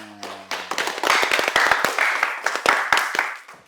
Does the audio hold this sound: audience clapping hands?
yes